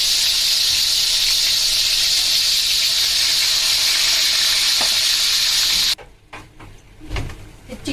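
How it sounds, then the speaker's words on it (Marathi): Chicken tikka pieces fry in hot oil in a kadhai, a loud, dense, close sizzle that drops suddenly to quieter crackles and soft clatter near the end, with no talk. "चिकनचे पीसेस मी सगळे ह्याच्यामध्ये टाकून घेतलेत आणि आता हे शिजवून घ्यायचे आहेत"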